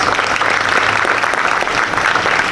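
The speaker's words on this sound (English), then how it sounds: "So let's give them a big round of applause." Crowd applause for two town councillors at an outdoor Pride Fest flag raising ceremony in Windsor-Essex, steady and dense, filling the whole stretch without pause.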